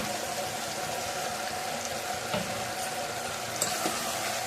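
Potatoes, capsicum and green chillies frying together in a pan: a steady, close crackling sizzle with occasional small pops, no talk.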